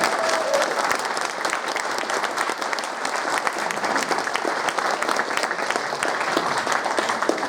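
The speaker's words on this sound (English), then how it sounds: "please just give a round of applause to our audience." A large audience at a YouTuber panel at Play Expo Blackpool 2018 claps steadily and loudly throughout, dense continuous applause with no pauses.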